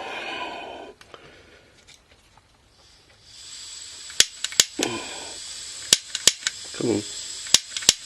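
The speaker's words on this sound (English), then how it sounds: "We now get the blow lamp." A paraffin blow lamp for a waste oil heater is lit: after a brief voice, a steady fierce hiss starts up, punctuated by sharp repeated clicks and snaps, with a couple of low rumbling bursts.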